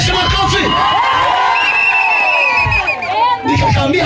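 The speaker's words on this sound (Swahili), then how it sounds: "Pia Yesu makofi." A church congregation at a revival meeting in Kasulu erupts in loud cheering, whoops and shouting, dense and close, with hands clapping within the roar of voices.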